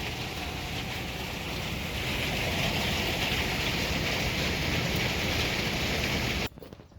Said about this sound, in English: we got a hailstorm